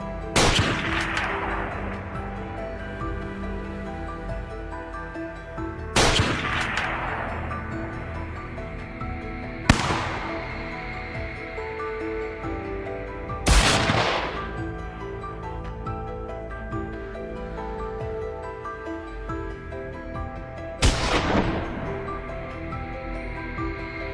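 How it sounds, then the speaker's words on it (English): Five loud gunshots ring out one at a time, spaced several seconds apart, each with a long echoing tail, during a wild boar hunt on a farm. "A series of shots rang out."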